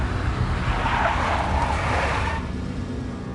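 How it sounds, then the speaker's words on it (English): Big black Mercedes car skidding in the Max Payne video game, a loud steady rush of tyre and engine noise that swells in the middle and fades slightly toward the end. "A big black Mercedes."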